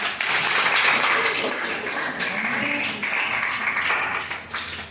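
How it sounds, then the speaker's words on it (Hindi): A crowd claps steadily for several seconds, a dense wash of applause with voices mixed in underneath. "हाथ खड़े करो, ताली बजाओ इन 2-4 बहन भाइयों के लिए।"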